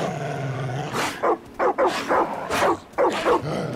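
A dog barks in the Far Cry 5 video game, giving a quick series of about six sharp, close barks and yips in short bursts over a low game background.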